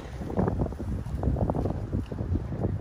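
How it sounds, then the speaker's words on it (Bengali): A light breeze blows outdoors in a park, a steady broadband rush buffeting the microphone with uneven low gusts throughout. "বাইরে হালকা বাতাসও আছে, একটু ঠান্ডা ঠান্ডা।"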